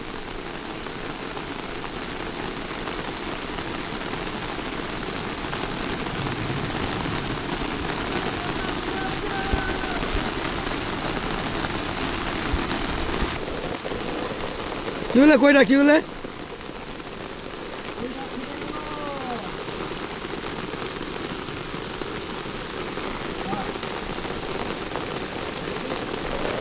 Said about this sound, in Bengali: দেখো এখনো বৃষ্টি চলছে।